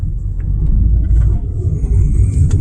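Steady low rumble of a car cruising on a narrow two-lane highway, heard from inside the cabin, loud and continuous road and engine drone with faint higher hiss and no talk.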